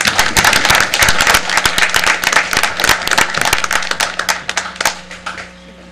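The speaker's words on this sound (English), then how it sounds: "let's give Blue Cap a big round of applause" A city council chamber crowd gives a big round of applause, dense sharp claps from many hands ringing loud and close for several seconds before thinning toward the end.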